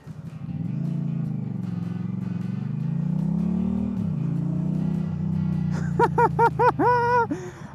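A Honda Rebel 1100 motorcycle engine drones steadily, then revs hard through several sharp rising bursts near the end, loud and close, with no talk over it.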